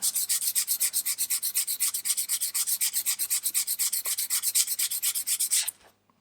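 Fine-grit sandpaper rubs back and forth along a wooden ship model hull in quick, even strokes, about seven per second, close and crisp, then stops abruptly.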